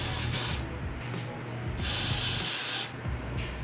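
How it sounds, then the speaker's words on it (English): Got To Be hair spray is sprayed onto the edges of a wig in several close, hissing bursts of varying length, with short pauses between them. "Just gonna spray my edges."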